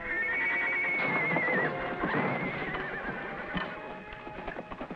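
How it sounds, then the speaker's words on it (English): A horse whinnies loudly nearby with a wavering, high neigh, while hooves clop irregularly on hard ground beneath and after it. "It must be the kid's horse."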